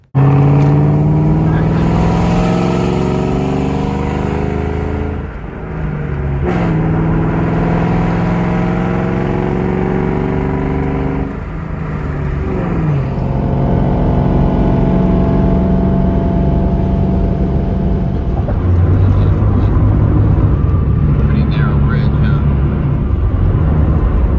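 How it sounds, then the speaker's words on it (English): Ford Mustang Mach 1 engine under way on the drive home from a car show, a steady loud drone with shifting harmonic tones as it accelerates and changes gear, continuous throughout with road noise. "the fun part is we get to drive the Mach 1 now after seeing all these fun cars"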